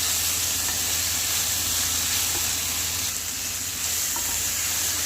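Broccoli and spring onion stalks fry in a pan with a steady, dense sizzle and hiss that holds evenly throughout, close and moderately loud, with no talking.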